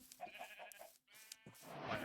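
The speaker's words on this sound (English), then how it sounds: "There's quite a lot of sheep here." Several sheep bleat in a Minecraft world, short wavering calls repeating close by, one after another, with a brief pause before a louder bleat.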